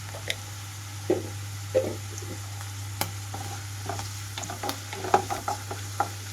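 Sliced onions with a little turmeric fry in a pan for a brinjal roast, giving a soft steady sizzle with scattered light stirring taps and scrapes over a low constant hum.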